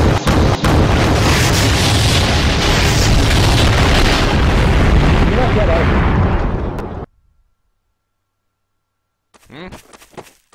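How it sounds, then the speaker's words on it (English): A Tsar Bomba nuclear detonation in Garry's Mod roars as a loud, sustained blast rumble for about seven seconds, then cuts to silence before a faint brief crackle near the end. "That bomb just went off right on you, and you're not dead."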